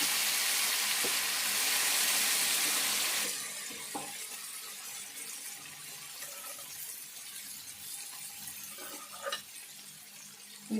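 Dal poured into a hot tempering pan for a fenugreek-leaf and bottle gourd dal gives a loud sizzle for about three seconds, then settles into a quieter bubbling hiss with a few faint clinks.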